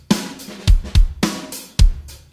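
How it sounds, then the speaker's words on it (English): Stereo drum bounce from a cover mix of a song: loud, punchy kick thumps and bright crashing cymbals and snare hits in a steady rock pattern, heard alone without talk. "the drums are really just a stereo bounce"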